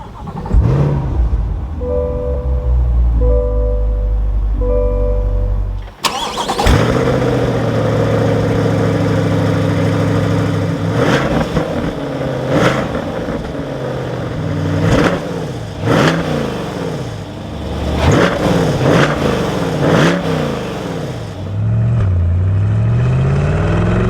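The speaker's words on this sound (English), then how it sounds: "now inside the Corvette with my foot on the brake, we can go ahead and fire it up" A 2021 Chevrolet Corvette Stingray C8 convertible 2LT quiets its low hum, then the engine fires up with a loud burst. Several sharp revs follow, each swelling and falling away, before it settles into a steady idle.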